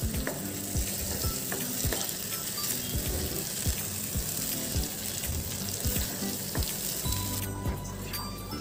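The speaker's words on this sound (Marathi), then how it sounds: "हा मसाला आपल्याला परतायचा आहे." Masala stir-fried in a pan over medium heat, a continuous sizzle with repeated scraping and clinking of the spoon against the pan, steady and close with no talking.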